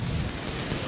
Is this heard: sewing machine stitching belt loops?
no